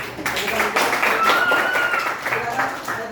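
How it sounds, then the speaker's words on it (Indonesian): Classroom applause from students after a group presents, a burst of scattered hand clapping mixed with overlapping chatter and voices throughout. "silakan tepuk tangan dulu"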